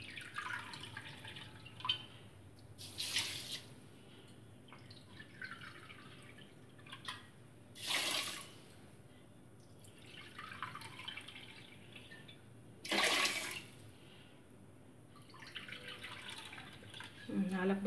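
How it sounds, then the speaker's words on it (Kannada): Four cups of water are poured onto sugar in a pan to make syrup for gulab jamun. Three short splashing pours stand out at even intervals over a quiet, hissy background. "ನಾಲ್ಕು ಬಟ್ಲು ನೀರು ಹಾಕ್ಕೊತಿದ್ದೀನಿ ಇದಕ್ಕೆ."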